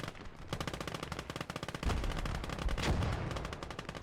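Rapid bursts of machine-gun fire from a Staghound armored car in the World War II game Gates of Hell, a dense rattling stream punctuated by heavier booms, loud and continuous with no talk.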